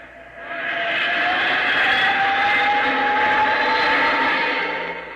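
A small aircraft engine roars up steadily and stays loud with a rising whine, a sound effect from an old-time radio drama, with no voices over it.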